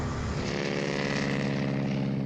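A propeller plane drones in a WWI strategy game, with a steady, loud, unbroken engine hum and no voices.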